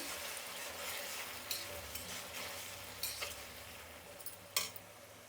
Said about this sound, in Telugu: అలాగే టమోటా. ఇప్పుడు దీన్ని బాగా వేయించుకుందాం.